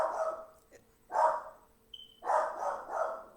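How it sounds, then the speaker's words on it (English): A dog barks indoors in a few sharp, separate barks with pauses between them, close and moderately loud. "my dog barks at white people"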